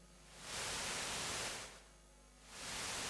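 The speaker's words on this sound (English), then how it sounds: "So we can make it sound more vintagey by adding in some noise." A hiss of tape-like noise swells in and out in broad waves, steady and fairly soft, with no other sounds.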